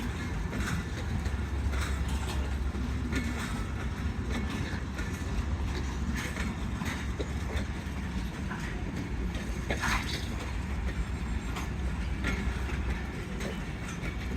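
Karakoram Express passenger train, with an older parlour-class coach, rolling past in foggy Lahore with steady loud rumble and repeated wheel clatter over rail joints for the whole stretch.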